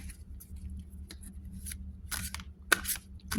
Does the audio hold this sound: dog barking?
no